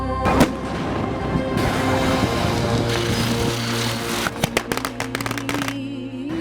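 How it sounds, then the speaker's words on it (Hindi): Diwali firecrackers crack and pop in a scattered cluster of sharp bursts across a village, some near and some farther off, over a noisy background. "पटाखे फूट रहे थे"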